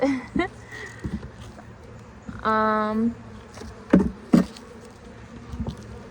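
Honey bees around an open hive during a frame inspection; a bee drones past close by in a brief buzz, amid scattered knocks and handling thumps from the hive boxes.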